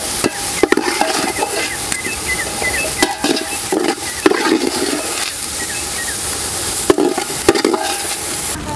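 Cooked pineapple for sheera stirred in a pot, a steady scraping and sloshing with a few sharp clanks of the spoon against the metal, close and fairly loud.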